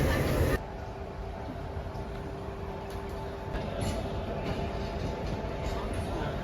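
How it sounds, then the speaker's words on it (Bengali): The Sealdah-Bikaner Duronto Express rolls into platform 14 at Sealdah station, a steady broadband rumble and hiss that holds evenly throughout, with a louder burst at the very start. "এখন কিন্তু এই ঢুকে গেল 14 নম্বর প্ল্যাটফর্মে শিয়ালদা বিকানের দুরন্ত এক্সপ্রেস ডিএন"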